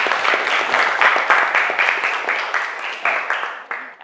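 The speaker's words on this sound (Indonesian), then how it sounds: "Kita kasih aplaus" A class of students claps together in a classroom. The applause is loud and close, with brisk irregular claps that keep up for several seconds and fade a little near the end.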